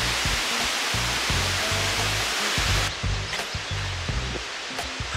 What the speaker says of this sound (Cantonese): 個瀑布咧就喺我哋後面啦